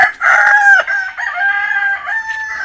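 A rooster crows loudly and close by among backyard fighting chickens kept in a banana grove, one long drawn-out call with a brief break before it carries on, alone without talk.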